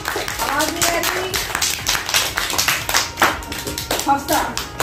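Group clapping at a children's Independence Day party competition, with irregular bursts of hand claps mixed with lively voices and children talking nearby.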